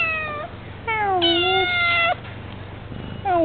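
A cat meows several times in close succession, drawn-out plaintive cries heard up close with quiet gaps between them.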